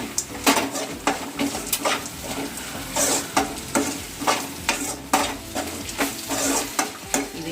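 Green chillies and coriander fry and get stirred in a pan for shavige (vermicelli) upma. A steady sizzle runs throughout, broken by repeated close scraping strokes of a spoon against the pan, with no talk.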